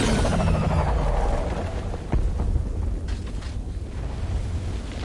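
A building explodes and collapses in the video game Batman Arkham Knight, a loud rumbling roar that fades into a long low debris rumble with a sharp crack midway.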